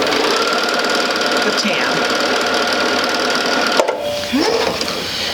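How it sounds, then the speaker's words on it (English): A sewing machine stitching quilt fabric runs in a steady rapid whir, briefly pausing for a short back stitch before resuming; someone speaks over the mechanical hum. "I'll just do a quick little back stitch just to hold that in place, and we're going to sew right off"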